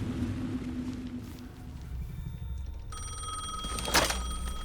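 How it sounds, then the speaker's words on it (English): A telephone rings in the video game Alan Wake 2, its bright, steady electronic trill starting partway through over a low ambient rumble, with a brief burst of noise near the end. "The phone again."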